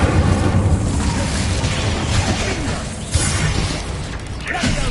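Fire spell Incendio cast in the Hogwarts Legacy video game, a loud whooshing burst with rumbling low-end crackle and mechanical clatter, several surges across the stretch, no talk.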